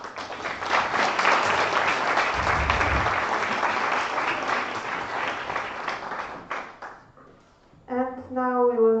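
Assembly audience applauds after a question round, a thick burst of clapping that fades out after about six seconds before a voice begins speaking.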